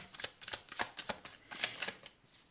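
Tarot cards are shuffled and laid out over a spread, giving a quick series of soft, close riffling flicks and slaps, quiet and alone.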